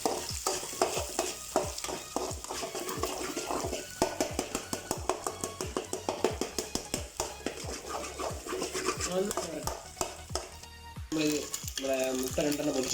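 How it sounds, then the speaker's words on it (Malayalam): Rapid, rhythmic scraping of a spatula against a pan as eggs are stir-fried for vegetable fried rice, dozens of quick close strokes over a soft sizzle, with a voice speaking near the end. "കോഴിമുട്ട നന്നായിട്ട് വരട്ടിയെടുക്കുക."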